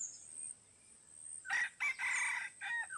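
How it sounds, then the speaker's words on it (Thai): A red junglefowl crows in several rooster-like bursts at moderate distance in a forest, over a faint high insect drone in an otherwise quiet outdoor setting. "ตอนนี้เฮาได้ยินเสียงอันไก่ป่าขันนะทุกคน"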